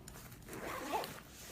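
A zipper on a range bag is pulled open in one smooth, fairly quiet rasp, close by, with no voices over it.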